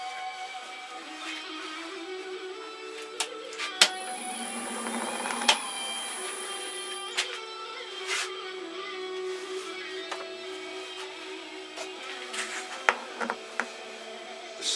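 Chestnut buffing wheel polishing a woodturning on a lathe, a steady mechanical whir with a changing tonal hum as the piece is worked, punctuated by occasional light clicks, with no talking.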